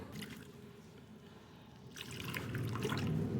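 Water is poured onto a potted jade plant bonsai, a soft trickle and splash in two short bursts, the second longer and fuller, close and fairly quiet.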